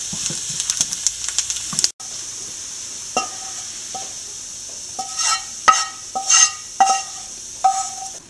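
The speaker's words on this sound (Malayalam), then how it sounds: "നേരിയ ഒരു ബ്രൗൺ കളർ ആകുന്നിടം വരെ നെയ്യിൽ വറുത്ത് കോരുക" Items frying in ghee for unniappam, a faint steady sizzle with soft hiss, broken by several brief clinks and scrapes of stirring and utensils at irregular moments.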